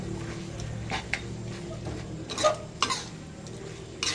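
Pork being stir-fried in a pan with sliced young galangal, yellow chilies and kaffir lime leaves, a spatula scraping and clinking against the pan in a few short strokes over a low sizzle.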